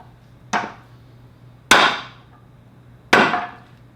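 A rubber mallet strikes wood three times at an even, unhurried pace during a Ducati Monster 1100 motorcycle rebuild. Each blow is a sharp, loud knock that dies away quickly, with a faint low hum between the strikes.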